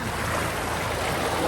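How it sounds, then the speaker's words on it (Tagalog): Strong sea waves wash at a beach resort in Eastern Samar, a dense continuous roar of surf heard up close and steady throughout. "Lakas din yung alon mga kap."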